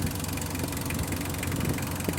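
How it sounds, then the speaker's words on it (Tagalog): A 2014 Mitsubishi L300 with a 4D56 diesel engine idles just after starting, a continuous, close, clattering diesel rumble with no talk over it. "bago siyang andar, kailangan hintayin mo munang mag-idle up ng ganyan"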